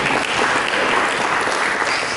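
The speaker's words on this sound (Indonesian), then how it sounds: "Mari kita berikan tepuk tangan." Dense, steady applause from a church congregation, loud and continuous throughout, with no speech over it.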